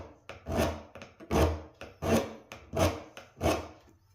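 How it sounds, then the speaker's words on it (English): An old hand scraper scrapes a wooden door in six distinct, evenly spaced strokes, each a close, rasping swipe separated by short pauses. "this thing's an old scraper"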